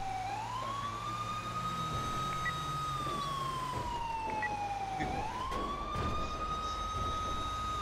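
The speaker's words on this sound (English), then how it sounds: "It's very weird seeing it and hearing it on an ambulance." A wailing electronic ambulance siren in a video game sweeps slowly up and down in long tones, steady and fairly close, with a low engine rumble underneath.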